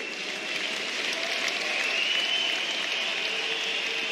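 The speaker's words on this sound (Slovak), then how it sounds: "Libor, drž sa, vyprevádza ťa potlesk všetkých zúčastnených." Steady applause from a hockey arena crowd sees off injured player Libor Hudáček during Slovakia versus Finland, a broad, even wash of clapping with faint crowd noise under it.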